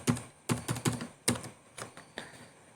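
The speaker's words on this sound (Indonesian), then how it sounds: "Kita ketik 17 juta." Keys tapped on a computer keyboard while an amount is entered in accounting software, a few close, crisp keystrokes in quick irregular bursts with short pauses, no talking.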